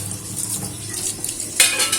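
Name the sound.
eggplant pieces frying in a pan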